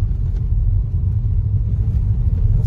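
Low, steady engine rumble from a car rolling slowly down a path, close and continuous with a deep droning hum and no talking.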